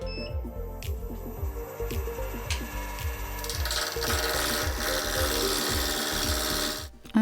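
A resin egg spins on a lathe and gives off a rhythmic, repeating scraping and rasping as the tool bites, close up, growing denser and rougher partway through before stopping suddenly.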